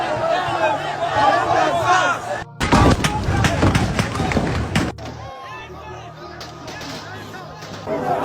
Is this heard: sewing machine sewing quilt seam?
no